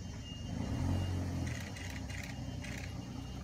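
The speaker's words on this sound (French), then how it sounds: "Il y a juste le moteur qui se met en route" A Ford Focus engine starts remotely through FordPass Connect and settles into a steady low idle rumble, heard fairly close, with faint mechanical clicks layered on top and no one talking.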